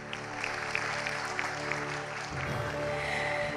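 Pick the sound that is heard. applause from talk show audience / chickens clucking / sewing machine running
applause from talk show audience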